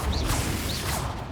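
Confringo fire spell in Hogwarts Legacy, a loud burst of crackling whooshes and impacts over a rumbling low end, with two swishing sweeps.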